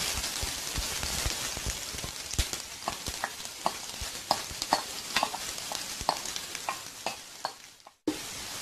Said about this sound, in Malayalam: ഇനി നമുക്ക് നമ്മുടെ അരിഞ്ഞു വെച്ചിരിക്കുന്ന ഓനിയനും ജിഞ്ചറും ഗാർലിക്കും ഒക്കെ കൂടി ഇട്ട്